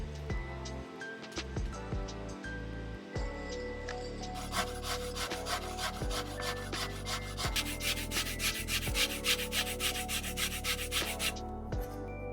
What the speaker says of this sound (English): I'm going to get some zest of some lemon.